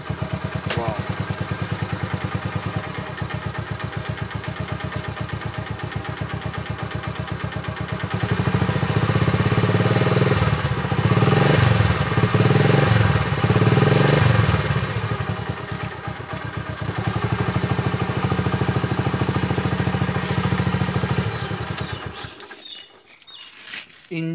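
Yamaha Libero motorcycle engine, freshly restored with kick-start compression restored, running loud and close, a steady idle that rises into revs midway, settles back, then cuts off near the end.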